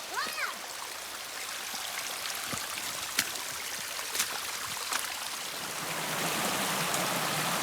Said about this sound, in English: Are you sure this is the trail? It looks like a creek.